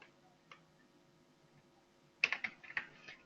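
Computer keyboard typing while writing code, quiet and close: a single click early on, then a quick burst of several keystrokes near the end in an uneven rhythm, with no voice.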